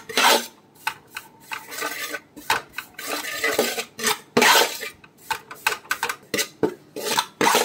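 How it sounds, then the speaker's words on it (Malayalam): A utensil scrapes and stirs chili powder in a pan over a low flame for a toddy-shop style fish head curry, with repeated rhythmic metal clinks and scrapes close by and no talking. "കരിഞ്ഞു പോകാതെ നന്നായിട്ട് ഇളക്കിയെടുക്കണം."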